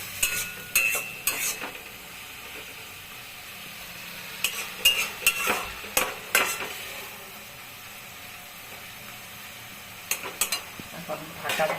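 Stirring a curry of watermelon rind, lentil fritters and potato in a pan on a gas stove, with intermittent scraping strokes over a soft background sizzle.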